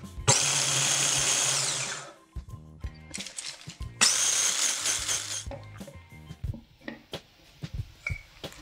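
Food processor grinding ingredients for raw semla pastry down to a fine sand, in two long loud bursts of whirring with short gaps, then rattling and knocking as the bowl settles.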